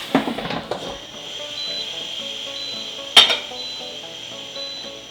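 Bacon sizzles with a steady, quiet hiss inside an Instant Pot, broken by a few sharp clinks early on and one loud metallic clatter midway, like a utensil against the pot.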